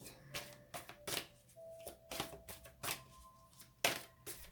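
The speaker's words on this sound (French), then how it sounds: "J'ai oublié des cartes en plus, donc je rebats." Oracle cards are shuffled in a handful of short, crisp riffling bursts with brief pauses between them, quiet and close with no talking.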